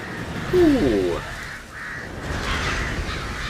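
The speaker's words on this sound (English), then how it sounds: "The amount of crows that are trying after me." In The Witcher 3: Hearts of Stone, a crow gives a harsh, raspy caw in a short burst, followed by faint game ambience and softer cawing.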